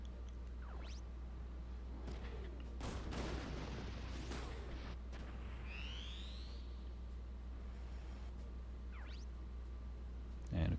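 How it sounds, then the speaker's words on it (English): Sniper rifle shots striking trees in the mech tactics game Front Mission 3, a few sharp reports with booming impacts over a constant low hum and game effects. "take out your sniper and hit a tree"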